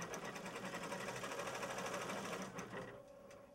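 An embroidery machine sews a puffy craft-foam design on hooped fabric, a fast steady mechanical stitching chatter that runs loud and unbroken, then thins out near the end.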